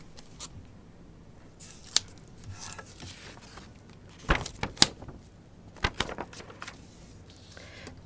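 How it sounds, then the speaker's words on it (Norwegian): Paper for a seamless screen-printing motif being fastened with a large strip of tape: quiet rustling with a few sharp, brief crackles and rips clustered mid-way, fairly close, with no voices. "og fester med en stor teipbit."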